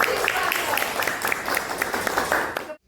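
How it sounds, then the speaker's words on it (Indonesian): A teacher-training audience applauds as guest speaker Pak Ernest is introduced, a steady round of many hands clapping at close range that stops abruptly. "kita beri tepuk tangan untuk Pak Ernest"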